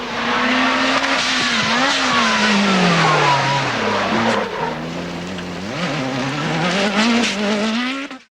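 A Lancia Delta S4 Group B rally car roars loud and close, its engine pitch rising and falling through gear changes, with brief tire squeals over continuous engine noise.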